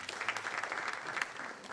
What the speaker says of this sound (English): Please let us clap for this.